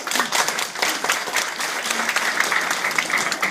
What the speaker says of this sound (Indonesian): Tapi sekarang ini ruangan boleh tepuk tangan.